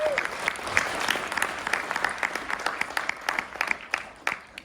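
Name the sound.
audience applause at a keynote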